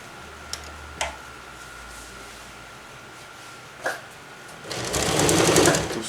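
Sewing machine stitching along the side seam of a jungle hammock, starting after a few faint clicks with a brief steady whirring burst near the end, close and fairly loud.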